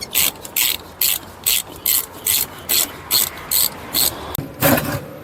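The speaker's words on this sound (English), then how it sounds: "Then you guys gonna have to remove the calipers." A ratchet wrench works the rear brake caliper bolts on a 2003-2009 Chevrolet 5500 Kodiak truck, giving a steady series of about a dozen close, crisp clicking bursts followed by a louder final turn.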